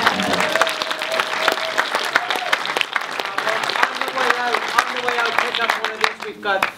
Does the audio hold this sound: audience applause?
yes